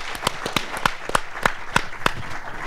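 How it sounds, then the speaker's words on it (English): Audience applauding a speaker at a business talk, a steady crowd clapping with sharp repeated hand claps near the front, continuous and fairly loud with no voices over it. "I'd love to give a big round of applause to Mr. Brent Leary"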